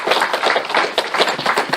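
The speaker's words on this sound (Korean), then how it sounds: "다 함께 박수 한번 보내주십니다." A temple congregation claps for a member who finished a marathon, a brisk, close burst of hand claps in quick uneven rhythm, loud and without voices.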